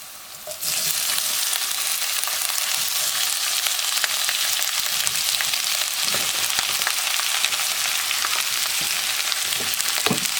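Onions hitting a hot pan and sizzling steadily, a dense even hiss that jumps up as they go in, with occasional scrapes of stirring, close and alone without talk.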